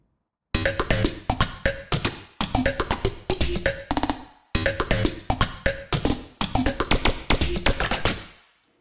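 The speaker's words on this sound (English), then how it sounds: "here's my unique layer of drums to go with it" A layered electronic drum and percussion loop made in Ableton ticks and clatters in dense, busy repeating bursts of crisp taps and clicks, with brief gaps between bars, moderately quiet and alone.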